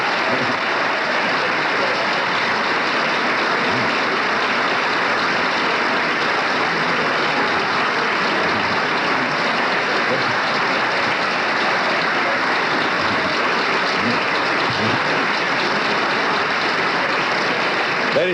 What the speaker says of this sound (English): All of Gerald Ford's colleagues are on their feet applauding.